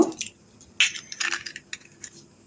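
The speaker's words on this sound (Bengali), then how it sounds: "এর মধ্যে আমি একটা ডিম ফাটিয়ে নেব" An egg is cracked with a sharp tap, followed by a few light clicks and soft wet sounds of the shell being pulled apart, close and brief.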